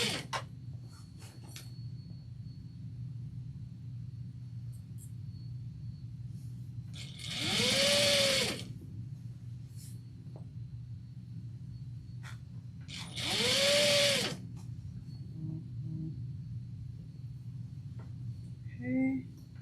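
A home sewing machine stitching a chevron add-on for a shoulder bag runs in two separate loud whirring bursts of about a second each, with a steady low hum and quiet handling noises between them and no talking.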